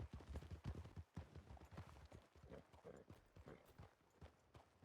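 Horse hooves clip-clopping steadily in an uneven trotting rhythm, fairly close and continuous, with faint background noise and no clear talk.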